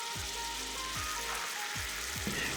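Delicate fish fillet stir-frying in sauce in a pan, a soft continuous sizzle with faint bubbling and a few low scraping sweeps, quiet and close with no speech.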